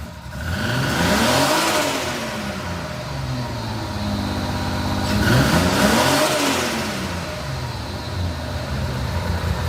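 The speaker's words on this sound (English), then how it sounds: "Listen to that 6G purr." A Mitsubishi 6G engine in a Triton revs up and settles twice, the pitch sweeping up then falling back, loud and close with a steady idle between.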